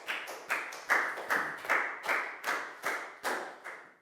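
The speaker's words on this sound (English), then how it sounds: "High five and a big round of applause for Pak Bung," A classroom of Year 4 pupils claps for a classmate, sharp rhythmic hand claps in a fairly regular beat of around nine or ten strikes, close and moderately quiet, with no talking.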